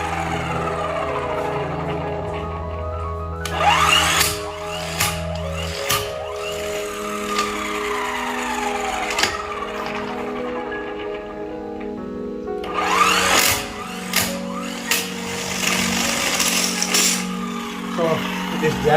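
An electric car jack's motor runs steadily while a car is raised for a tyre change, a continuous whine with rising pitch sweeps and two louder bursts of higher-pitched strain.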